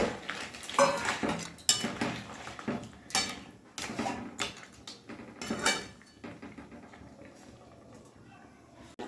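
Metal pot and lid clatter while crab curry cooks: a series of sharp clanks and clinks, close and irregular, some louder knocks among softer scrapes, with quieter handling toward the end.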